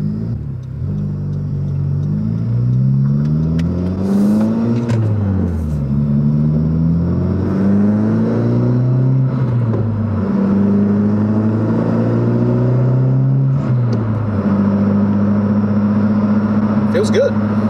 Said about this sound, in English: It's time to take it for a test drive.